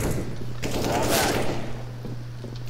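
Rapid automatic gunfire from a Counter-Strike: Global Offensive match, rounds punched through a wall, a dense continuous burst over a low steady hum with a brief burst of voice mixed in.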